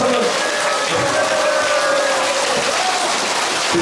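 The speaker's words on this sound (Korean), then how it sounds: "여러분 박수 한번." Loud, continuous applause from a crowd at a political lecture event in Daejeon, mixed with cheering and shouted voices rising over the clapping.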